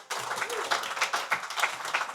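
An audience claps during a Generali insurance presentation, a faint, loose patter of several pairs of hands with distinct individual claps spaced through the short stretch.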